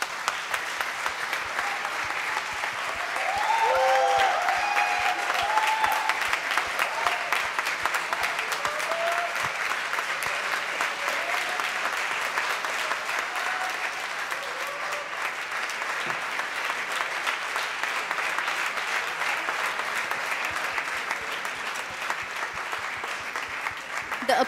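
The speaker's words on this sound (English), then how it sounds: "The applause speaks it all" An audience applauds steadily for the best speaker award winner at a law school valedictory function, sustained dense clapping that runs for the full stretch with a faint voice rising briefly under it.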